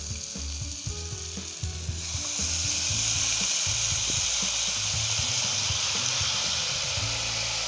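White mustard greens hit a hot pan for a stir-fry with egg, and the sizzle swells into a loud, steady hiss over low clatter from the pan.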